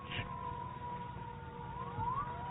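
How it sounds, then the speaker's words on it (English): A faint, distant air raid siren wails in a long sustained tone that slowly rises, over a low rumbling background. "Listen, the siren."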